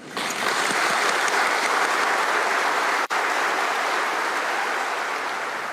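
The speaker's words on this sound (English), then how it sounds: "join me in giving my beautiful boy 1 minute's round of applause" A crowd joins in a sustained minute of applause for a murdered boy, a dense, steady roar of clapping that holds at full strength throughout with one brief cut.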